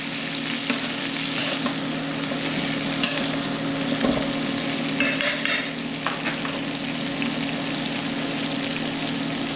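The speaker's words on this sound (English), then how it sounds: "What you do is you just baste your fish a little bit." Crispy-skin salmon fillet with a squeeze of lemon frying in a hot pan while being basted, giving a loud, steady, close sizzle and crackle with brief spoon stirs and splashes throughout.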